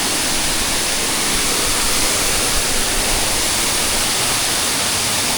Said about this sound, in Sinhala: මේ තියෙන්නේ ඒ ලස්සන දියැල්ල.